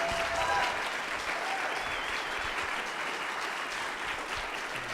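A crowd applauds at an Arizona District 5 Republican debate, a dense, sustained wash of clapping that stays steady and fills the room for the whole stretch.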